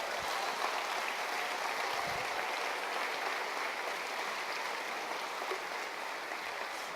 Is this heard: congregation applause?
yes